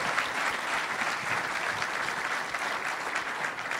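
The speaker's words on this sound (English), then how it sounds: "A round of applause for Gary and John" A keynote audience at a startup event breaks into loud, dense applause, a continuous wash of clapping hands lasting throughout without letting up.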